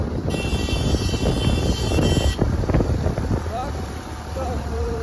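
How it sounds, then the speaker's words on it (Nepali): Cold wind blows hard across the microphone at snowy Dhorpatan, a loud continuous rumbling roar that buffets throughout, with a faint high whine early on and people talking underneath. "यस्तो चिसो हावाले"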